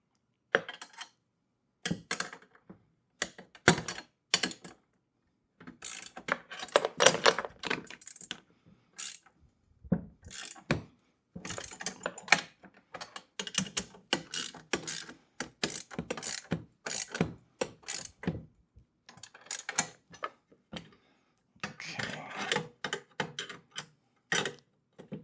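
Ratchet tightening bolts on a heavy-duty four-wheel garden dump cart, brisk bursts of clicking pawl strokes in repeated runs separated by short pauses, close and clear with no talk.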